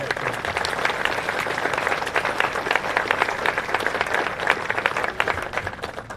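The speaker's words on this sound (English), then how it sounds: "join me in a round of applause for the 428 EFCO staff and leaders" Crowd applause at a military award ceremony for a best artillery competition, a sustained, even patter of many hands clapping at moderate volume throughout.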